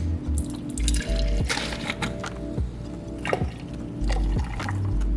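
Liquid sloshing and dripping as almond and oat milk are poured and mixed with espresso, with wet splashes and clinks against a steady low kitchen hum, close and fairly loud.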